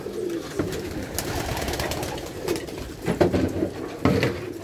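Racing pigeons coo steadily in a loft at close range, a soft continuous burble with rustling and a few sharper clicks, no speech.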